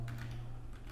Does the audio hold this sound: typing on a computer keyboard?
yes